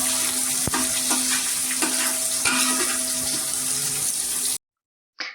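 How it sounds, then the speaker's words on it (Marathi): Sliced onion and whole spices sizzle and crackle steadily in hot oil for a homestyle biryani, with occasional sharp clinks of a spoon against the pan, before the sound cuts off briefly and a short burst of frying returns. "कांदा सुद्धा तेलात छान परतून घेतला."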